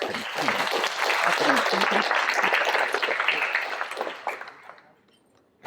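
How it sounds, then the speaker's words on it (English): An audience at an INFORMS anniversary luncheon applauds a panel, bright sustained clapping with some voices mixed in, swelling and then fading out to near silence before a sudden sound at the end. "So let's continue with the round of applause."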